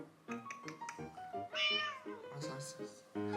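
A pet cat meows repeatedly in a home, a series of short, close, fairly loud calls with one longer drawn-out cry in the middle, while a person talks nearby.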